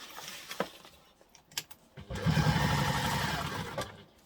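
Sewing machine stitching an X of webbing onto a reusable fold-and-store duffle bag: a few clicks and handling taps, then a sustained steady motor whir of stitching lasting about two seconds.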